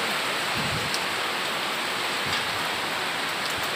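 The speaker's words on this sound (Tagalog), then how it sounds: "Malakas na ulan ang pumapatak" Steady, dense downpour of heavy typhoon rain, a constant hissing wash with scattered closer drops, no voices.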